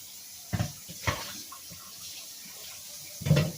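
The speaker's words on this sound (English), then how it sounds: "here we are at the sink, and so this is how I just first rinse everything off" Water runs from a kitchen sink tap while fruit is rinsed, a steady close splashing hiss with a few louder gushes and knocks, and no one speaking.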